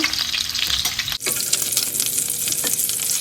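Minced pork cutlets fry in a pan, giving a loud, steady crackling sizzle that dips for a moment partway through and then carries on evenly.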